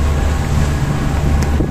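Sailboat motoring with reduced sail while crossing from Tenerife to La Gomera, a steady low engine drone mixed with wind noise buffeting the microphone, loud and continuous, no voices.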